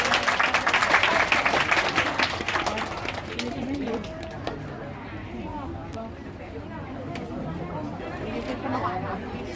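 Audience clapping at a fan meeting, a dense broadband spatter of many hands that is loudest at the start and gradually thins, with crowd chatter and voices mixed in throughout.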